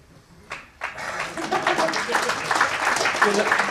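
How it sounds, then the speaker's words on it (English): Audience applause at a computer game history conference talk builds after about half a second into a dense, steady wash of clapping, with a voice talking over it. "You know who you are applauding with this."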